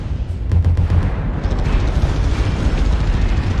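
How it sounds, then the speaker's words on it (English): Incoming missile explosions in a mech combat video game: a heavy, rumbling blast with rolling booms and crackling debris, loud and sustained over a few seconds. "Warning, incoming missile."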